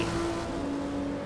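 A race car engine revs hard as the wheels spin coming out of the Suzuka hairpin, a steady droning tone that climbs slightly in pitch, loud and close.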